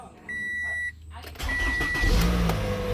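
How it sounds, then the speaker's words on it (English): A 2013 Toyota Camry engine starts after an alternator fuse link replacement, a chime beeping before the crank, then the engine catching and settling into a steady, fairly loud idle close by. "Car fired right up."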